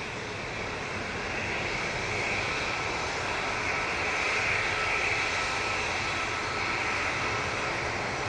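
A jet airliner climbing out after takeoff at Manchester Airport, with gear retracting, gives a steady, broad engine roar that holds strong throughout, swelling slightly mid-way, with no voices.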